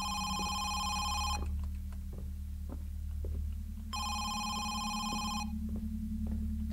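A telephone rings in a horror video game set in a house, two bursts of bright electronic bell ringing separated by a pause, over a low steady hum with faint thuds and footsteps.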